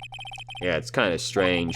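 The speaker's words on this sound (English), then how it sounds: "I heard a phone ring just now." A phone ringtone in Phoenix Wright: Ace Attorney chirps in a quick run of short, evenly spaced electronic beeps, then keeps going faintly underneath as a person starts talking.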